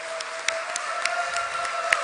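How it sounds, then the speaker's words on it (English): A conference audience applauds a district governor's introduction with steady, fairly quiet clapping, scattered sharper claps standing out from a continuous wash. "Can we have a big round of applause"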